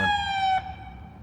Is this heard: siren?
yes